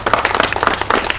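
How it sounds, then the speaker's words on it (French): A brief burst of audience clapping follows a speech at a public event in Bukavu, a short lively patter of hands from a small group, fairly loud and near. "Et je crois qu'ils méritent vos applaudissements."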